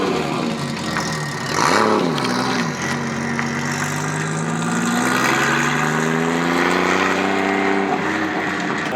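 An enthusiast's car, a Nissan Skyline R33, starts up and revs at a meet. The engine catches with a short burst, then settles into a rough idle and climbs through rising revs, close and loud.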